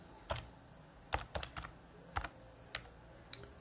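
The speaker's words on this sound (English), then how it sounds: "type Ubuntu" A computer keyboard tapped in a handful of separate, distinct keystrokes with short pauses between them, close up and quiet, with no voices.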